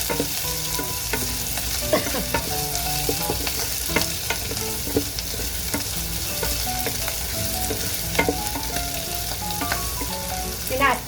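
Curry leaves, most of them dried, sizzle and crackle in hot oil during pickle making, giving a close, steady frying hiss broken by popping spits and the scrape of a spoon stirring.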